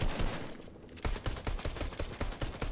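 Compact SMG gunfire in a first-person video game, rapid bursts of shots crackling in quick succession with a brief lull, loud and close throughout.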